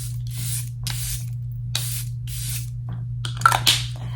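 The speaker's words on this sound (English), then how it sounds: "I use the Charlotte Tilbury setting spray, and I just put this all over my face." Charlotte Tilbury setting spray is misted onto a face in about seven quick hissing pumps at an uneven pace, close up over a low steady hum.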